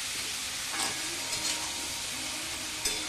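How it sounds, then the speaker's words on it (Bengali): Fish and potatoes frying in hot oil give off a close, steady sizzle and hiss, with a few faint stirring scrapes and soft bursts breaking through the constant crackle. "আমি কিন্তু সুন্দরভাবে এই সাউর ও আলুটাকে ভেজে নিচ্ছি।"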